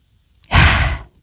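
Single deep breath during a kids' yoga session in mountain pose, a close, loud exhale lasting under a second after a faint intake.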